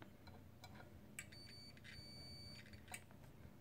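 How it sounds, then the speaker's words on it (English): A multimeter set to continuity gives a faint, steady electronic beep of about a second and a half while its probes test a faulty microwave magnetron, with light handling clicks around the tone. "if I do a continuity test, set it to sound, when you test the old one, the bad one, you hear that?"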